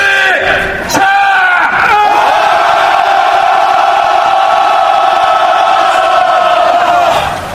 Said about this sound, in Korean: 전방에 투쟁의 함성 시작!